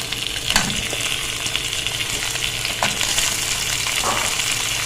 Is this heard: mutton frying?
yes